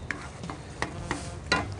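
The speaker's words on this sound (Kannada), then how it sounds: "ತಳ ಸೀದೋಗದಿರೋಂಗೆ ಒಂದು ಸ್ವಲ್ಪ ಕೆದಕ್ತಾ ಇರಬೇಕು" A spoon scrapes and stirs a thick, boiling sweet mixture in a pot, five distinct scraping strokes spaced unevenly over a soft background bubble, close and clear.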